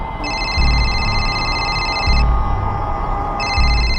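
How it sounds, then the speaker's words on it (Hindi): A phone rings in repeated electronic trilling bursts with short pauses between, loud over a busy, noisy background. "भाभी जी का फोन है"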